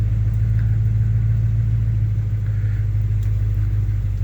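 A 1975 Chevy C10 pickup truck's engine runs steadily after a cold start, a loud, close, continuous low rumble without variation.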